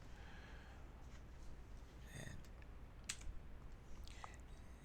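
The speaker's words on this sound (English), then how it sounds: "we can just type in prompt" Faint keystrokes on a computer keyboard while a command is typed into the Windows command prompt, scattered soft clicks over a low background hum, with a few clearer taps near the end.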